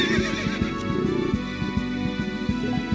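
A horse neighs in the Berwick Saga video game, set against game music with a steady, repeating low rhythmic pulse throughout.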